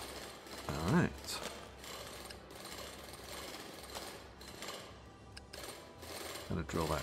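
A drilling machine grinds through rock in the mining game Drill Core, a rough mechanical clatter with ratcheting bursts that swell and fade across the clip.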